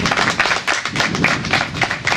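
A church congregation claps together in a dense, steady burst of applause filling the room, with no voices on top.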